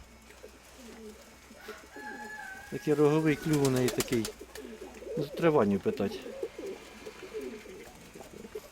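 Pigeons cooing nearby in repeated soft, throaty rolling calls that rise to a louder burst in the middle. Someone talks in Ukrainian over and between the coos.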